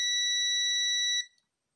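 A steady high electronic beep from a multimeter on continuity test across the shorted gate of a transistor, holding for over a second before cutting off, loud and alone.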